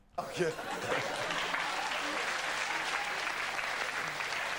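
Studio audience applauding steadily on a 1990s Polish dating game show, a dense even wash of clapping that starts abruptly and holds at moderate level throughout.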